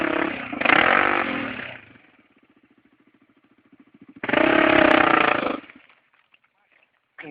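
A motorcycle engine is revved hard in two loud, roaring bursts, separated by a low, rhythmic idling putter, before a third rev starts at the very end.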